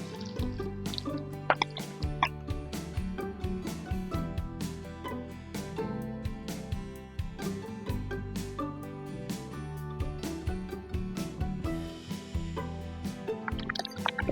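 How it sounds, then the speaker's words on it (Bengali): Okra (ladies finger) dropped into hot mustard oil and frying for achari bhindi gives a continuous close sizzle, with dense bursts of crackling and popping that run all the way through. "এখন ভেন্ডিগুলোকে আমি ভালো করে ভেজে নেব।"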